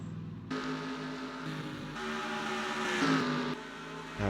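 Race trucks in a Craftsman Cup Series qualifying session at Texas, engines droning steadily in the pit lane, with a louder revving surge near the middle and no talking.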